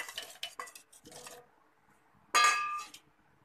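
Peeled apple pieces drop into a glass jar, a few soft clinks and taps followed by a louder, ringing clatter of fruit against glass, close and without talk.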